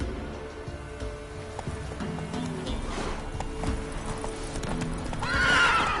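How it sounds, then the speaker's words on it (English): Roach the horse gallops in The Witcher 3 with rapid, rhythmic hoofbeats close by, ending in a loud neigh. "Run, Roach."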